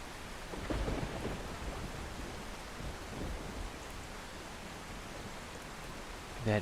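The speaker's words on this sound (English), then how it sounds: "Oh, lightning strike right in front of us." Storm-chasing game Outbrk: a lightning strike brings a rumble of thunder over steady, heavy rain. Dense noise fills the scene, with a louder burst early on and a dull roll later.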